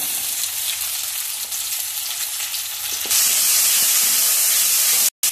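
Whole garam masala, onion, ginger-garlic paste and tomato fry in hot oil with a steady loud sizzle that suddenly intensifies into a harsh, spitting hiss, then cuts off briefly near the end. There is no talking.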